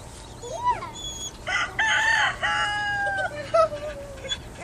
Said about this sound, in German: Na Mama, passt du fein auf deine Küken.